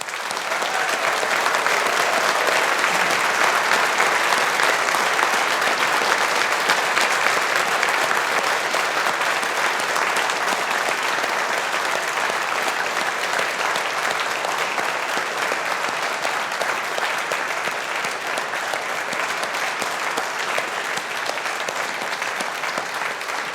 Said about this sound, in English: That was a much more rigorous round of applause than this morning